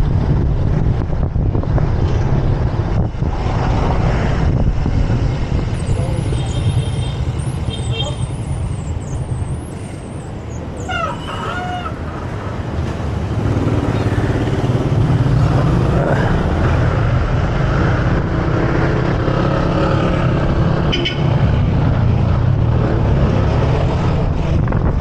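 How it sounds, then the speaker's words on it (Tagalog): Strong wind buffets the microphone during a long solo bike ride toward Bulacan, a loud continuous low roar and rumble that persists throughout, with a brief high whistling tone partway through. "Lakas ang hangin."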